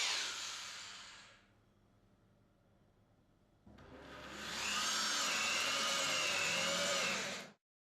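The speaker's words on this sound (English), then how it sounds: "drill a 28 mm diameter hole to a depth of 30 mm" A power drill whines loudly and steadily, briefly pausing, then bores a 28 mm hole into a door frame with a high, wavering grind before stopping abruptly.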